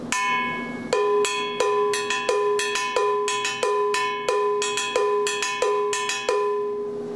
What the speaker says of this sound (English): the bongo bell pattern, I have to find a sound that sounds like this.